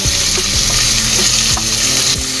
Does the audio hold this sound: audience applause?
no